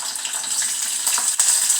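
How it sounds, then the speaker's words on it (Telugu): Curry leaves crackle and sizzle in hot tempering oil, a dense, steady frying hiss close to the pan with no talk. "ఇప్పుడు కరివేపాకు వేసుకుందాం."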